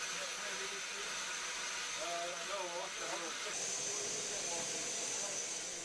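A steam engine hisses steam in a constant broad rush that brightens near the end, while someone speaks over it.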